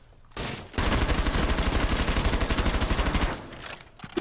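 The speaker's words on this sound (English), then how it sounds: "Why are you shooting?" Rapid sustained automatic gunfire in Rainbow Six Siege, a loud dense burst of evenly spaced shots lasting a few seconds after a brief opening shot, with no talk over it.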